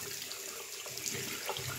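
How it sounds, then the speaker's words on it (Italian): Hot tap water running over a safety razor blade being rinsed, a steady close hiss of flowing water with slight splashing changes as the blade moves under the stream, no talking. "Vado sotto l'acqua corrente calda"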